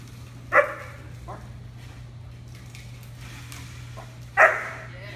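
A 6½-month-old sable German Shepherd barks on command outdoors, two separate loud barks about four seconds apart over a steady low hum, with faint background sounds between them.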